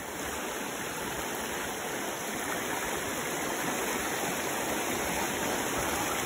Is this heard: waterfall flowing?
yes